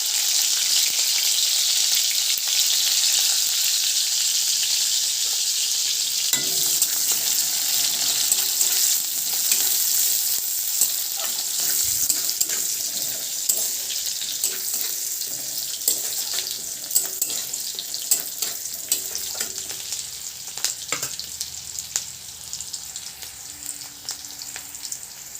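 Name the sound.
spices frying in hot oil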